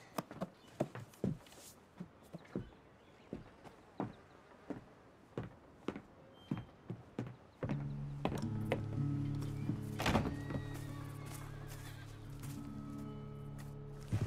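Horse hooves in the video game Red Dead Redemption 2 thud in a steady, evenly spaced clopping rhythm, close and clear, before giving way to a louder sustained tonal drone with scattered knocks.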